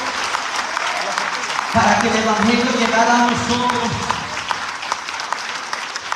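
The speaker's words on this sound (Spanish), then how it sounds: "El aplauso es para Jesús." A church congregation applauds steadily in response to a preacher, a broad sustained wash of clapping that swells over a few seconds and then fades, heard under a voice speaking.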